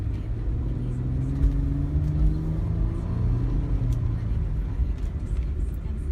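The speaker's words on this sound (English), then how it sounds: "I need to give it some gas here to see if it's going to go through all the gears here." Car engine pulling through its gears while driving, a steady rumble with rising and falling engine tones, continuous and fairly close.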